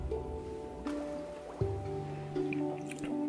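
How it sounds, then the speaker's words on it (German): Liquid drips in the puzzle video game Samorost 3, several soft, separate drops falling at uneven intervals over a steady tonal musical background, with no talking. "Und dann tropft was hier runter."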